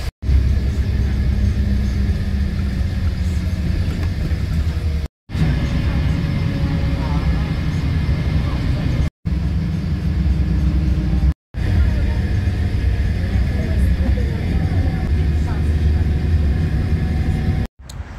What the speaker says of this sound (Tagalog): So guys, nandito ako ngayon sa bus.